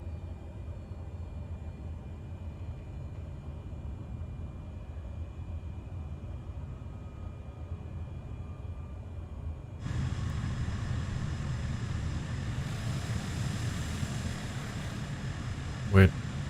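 An airliner taxiing to the runway in Microsoft Flight Simulator 2020, a steady low engine drone and hum that grows louder and fuller partway through, ending in a brief sharp click.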